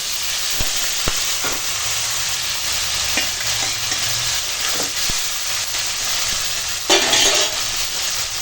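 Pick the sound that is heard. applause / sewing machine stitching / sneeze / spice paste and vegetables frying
spice paste and vegetables frying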